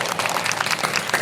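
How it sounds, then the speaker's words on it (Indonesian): Applause for a student in an organization-theory class session, a short burst of scattered clapping from a small group. "Tepuk tangan buat Isti guys."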